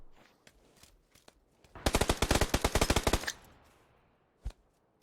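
A rapid automatic burst of about fifteen close, loud shots rings out in a PUBG battle royale pro scrim, with a few scattered single shots before it and one sharp shot afterward against quiet background.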